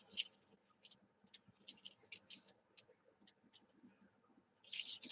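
Scissors snipping through paper tags in short, quick bursts of crisp cuts with quiet pauses between, close and fairly soft.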